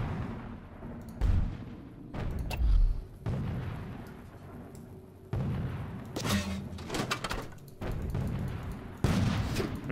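Toy Soldiers video game battle with repeated booming mortar and artillery blasts, several heavy thuds and explosions spaced a second or two apart over a rumbling battlefield background.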